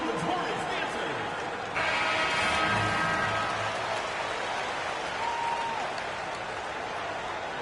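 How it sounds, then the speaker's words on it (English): Crowd applause and cheering for the New Orleans Hornets dancers swell in a large basketball arena, with a burst of louder clapping midway and a background murmur throughout. "let's get to applause for your New Orleans Hornets dancers"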